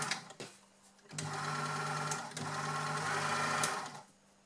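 A sewing machine stitches a knit hem in two close, loud bursts of rapid, even motor whirring, separated by a short pause and ending in quiet clicks, with no talking.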